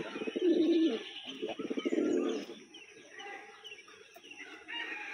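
Pigeons nearby give soft, throaty, pulsing coos in two short runs. Quieter rustling and faint background noise follow.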